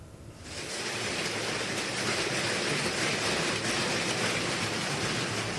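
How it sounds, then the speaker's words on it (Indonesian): Gravel-sized hailstones pour down on the slopes of Mount Merapi, a dense, continuous hiss and patter that starts abruptly and holds steady and fairly loud throughout. "hujan es sebesar kerikil berjatuhan dari langit"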